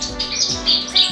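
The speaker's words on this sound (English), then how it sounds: "This is my little bird room" Several pet birds chirp and tweet together in an indoor bird room, a busy overlapping chatter of short high calls close by, with no one talking.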